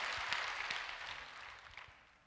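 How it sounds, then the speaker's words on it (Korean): Applause from a church worship service congregation, a continuous patter of many hands clapping that gradually fades over a couple of seconds, faint and somewhat distant. "우리 하나님께 감사와 영광의 박수 올려드리기를 원합니다"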